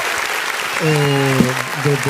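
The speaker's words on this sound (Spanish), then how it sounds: "Por favor, ¿dónde están los aplausos?" Applause from a church congregation, a steady wash of clapping across the whole short span, with a voice speaking over it.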